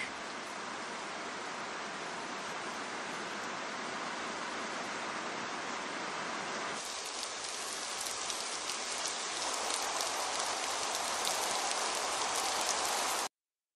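Heavy rain pours steadily in a continuous dense hiss, growing louder and harsher partway through, with no voices, as downpour falls on an African landscape where large spiders shelter in silk-lined nests.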